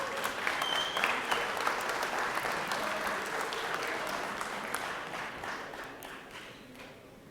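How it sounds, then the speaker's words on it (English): Applause fills a state senate chamber after a bill passes in the 2023 legislative session, a dense roomful of clapping that holds strong and then slowly thins and fades toward the end. "Please give him a round of applause."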